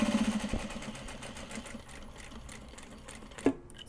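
A sewing machine stitches the box outline of a welt pocket, a close steady rattling hum with a sharp click at the start and another near the end.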